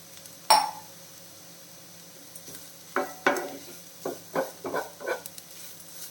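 Grated coconut and softened onion heated in a pan for upma, stirred with a utensil: one sharp scrape, then a run of short scraping strokes over a quiet, low sizzle.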